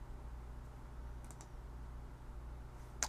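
A single sharp computer mouse click near the end, preceded by a couple of faint clicks, over a steady low room hum in a quiet setting.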